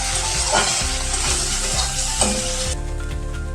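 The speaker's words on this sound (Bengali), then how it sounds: "তেলটা গরম হয়ে গেলে চিংড়ি মাছগুলো দিয়ে দিচ্ছি। নুন হলুদ মাখানো চিংড়ি মাছ আমার ভাজা হয়ে গেছে।" Prawns coated in salt and turmeric frying in hot oil, giving a loud, close, steady sizzle with a few stirring knocks, then the hiss drops sharply near the end as the heat fades; no speech.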